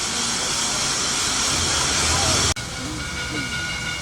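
An 1880 steam locomotive on the Black Hills Central Railroad in Hill City vents steam in a loud, close, continuous hiss that cuts off abruptly about two-thirds through, then continues at a slightly lower level.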